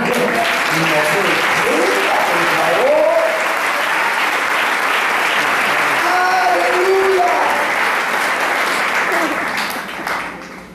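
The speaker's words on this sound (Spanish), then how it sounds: "¿Quiere dar un aplauso," Church congregation applauding at a sermon, sustained loud clapping from a large crowd with cheers and shouts mixed in, fading slightly toward the end.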